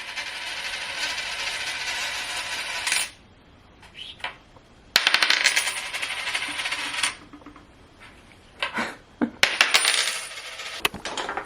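A quarter dropped at home gives two long, close, metallic clattering rattles with quieter ticks and knocks between them, heard alone with no talk.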